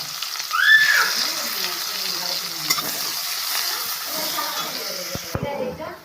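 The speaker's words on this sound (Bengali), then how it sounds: "এবার আমি পেঁয়াজ কুচি দিয়ে দেবো।" Chopped onion hits hot oil in a wok with a sudden loud hiss, then settles into a steady, close sizzle of frying that continues to the end.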